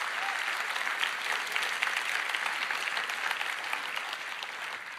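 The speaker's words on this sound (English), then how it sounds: "I would like to give them a round of applause for keeping the internet safe." A large keynote audience at RDC 2024 breaks into steady applause, a dense wash of clapping heard at moderate distance and continuing evenly throughout.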